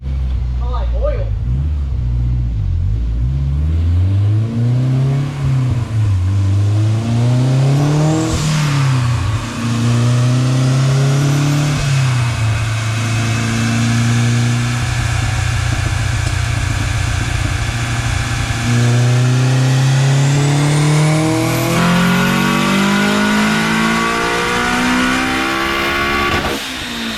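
A turbocharged 8th-generation Honda Civic revs hard on a dyno pull. The engine note climbs in long loud sweeps, drops back, then climbs again, with steady drivetrain roar throughout and people talking over it.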